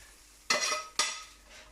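Two sharp scraping stirs of a utensil through sizzling food in a pan, with a soft frying hiss continuing between them.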